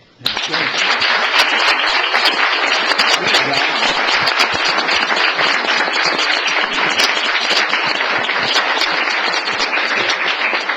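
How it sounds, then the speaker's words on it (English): Sustained, loud applause fills a city council meeting, starting abruptly and holding steady for about ten seconds as many people clap together, with occasional sharper individual claps standing out. "I think you guys deserve a round of applause."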